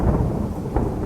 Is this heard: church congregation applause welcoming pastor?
no